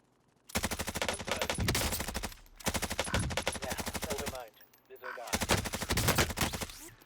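Bursts of automatic gunfire in Warzone video game play, three long rapid-fire volleys separated by short pauses, loud and close, with faint game voice chatter between bursts.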